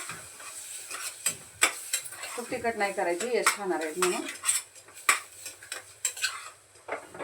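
Food for a whole pigeon pea curry (amti) sizzles in a pan while a spoon scrapes and clinks against the metal in irregular strokes; a person speaks briefly over the cooking.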